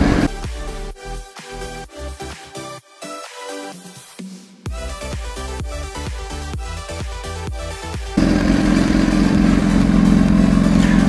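A motorcycle rides through the streets of Syzran, its engine humming and revving in uneven pulses, briefly easing off, then holding a louder steady drone for the last few seconds.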